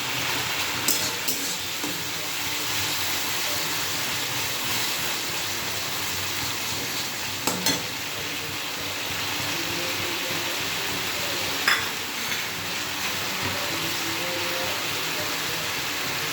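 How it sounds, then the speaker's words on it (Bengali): Tomato sizzling steadily in a hot pan while being stirred, a continuous frying hiss with a few brief clinks over about sixteen seconds, no voices. "এবার টমেটোটা দিয়ে দিলাম। এটাকে ভালো করে কষতে হবে।"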